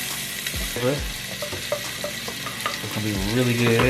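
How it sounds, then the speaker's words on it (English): Half a chopped onion sizzles in melted butter in a pan, a steady frying hiss with intermittent stirring scrapes, while a voice speaks briefly over it. "Adding the onions here."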